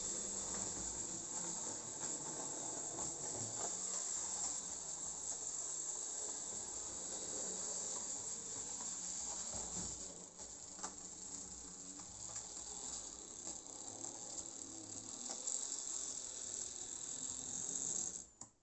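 A model train locomotive runs on a Piko controller, a faint steady hiss and whirr that continues with little change for the whole clip, then cuts off at the end, with no voices.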